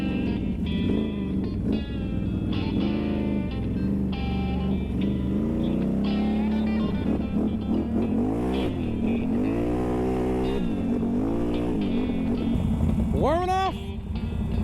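A Can-Am Renegade ATV on new ITP MT911 tires rides along a road, its engine droning steadily and loud, rising and falling with throttle, with talk over the engine noise and a sharp revving sweep near the end.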